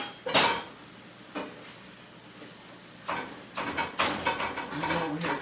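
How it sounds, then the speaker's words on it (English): Meat being chopped for coney sauce in a home kitchen, with sharp metallic knocks of a utensil against a pan or board coming in scattered bursts, some isolated and some in quick clusters, fairly close. "I'm over here chopping on my meat,"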